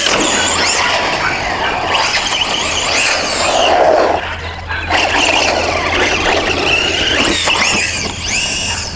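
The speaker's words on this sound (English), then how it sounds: "I can hear that slipper just slipping to allow us to have better traction" A VKAR Racing SCTX10 V2 RC short course truck runs hard with its slipper clutch slipping, giving a loud, continuous high squealing whine over broadband motor and tire noise that rises and dips for several seconds, with no talking.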